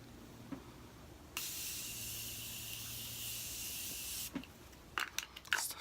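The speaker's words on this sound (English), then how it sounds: "And then as primer, I'm going to use the Morphe spray." Morphe primer spray hisses from a can in one continuous burst of about three seconds, close and crisp, followed by a few soft handling taps.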